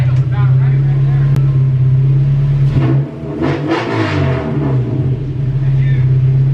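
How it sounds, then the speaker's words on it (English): A tuned hatchback's engine idles with a steady low droning hum, loud and close, while people talk over it briefly. "The idle's about right there."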